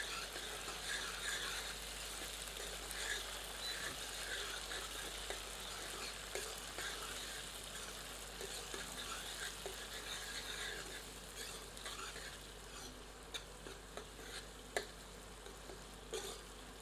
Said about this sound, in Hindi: इसे प्याज के साथ मिलाकर 1 से 2 मिनट मध्यम आंच पर भूनते हैं